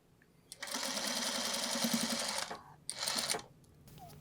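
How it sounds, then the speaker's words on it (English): A sewing machine stitches quilting fabric in close, fast whirring runs, one long burst, a short pause, then a second shorter burst, heard alone in a quiet room. "Back stitch, and then I can start sewing all the way down."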